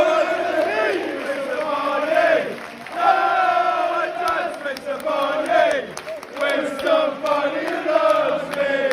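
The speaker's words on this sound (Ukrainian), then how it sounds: "погляньте, які овації за ці дії отримав наш козак" A football stadium crowd roars an ovation for goalkeeper Lunin's save, a sustained, chant-like wall of voices that dips briefly and then swells again, loud and sweeping across the whole stand.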